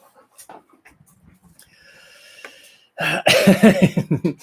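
Quiet rustling and faint sounds, then a dog pants loudly and rapidly close by in quick rhythmic breaths.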